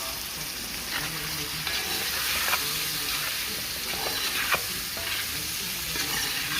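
Chunky seasoning frying in a pot for curry chataigne with pig tail, a steady close sizzle with occasional soft clinks and scrapes as it is tossed and stirred.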